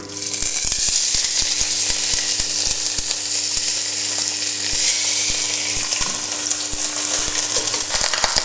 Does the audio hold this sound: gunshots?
no